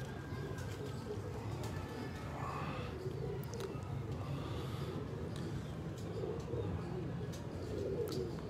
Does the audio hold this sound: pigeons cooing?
yes